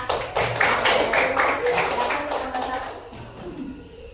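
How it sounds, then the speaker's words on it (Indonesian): Classroom applause from a group of students, a dense patter of clapping that starts loud and gradually thins and fades over a few seconds, with faint voices underneath. "Beri tepuk tangan ya."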